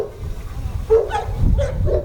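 A sport water rescue dog gives a few short barks and whimpering yips close by, broken by brief pauses, with a faint background murmur.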